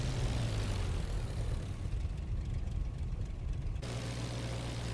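Aircraft engine and propeller in the IL-2 Flying Circus flight game, a loud, steady droning hum that holds throughout without speech.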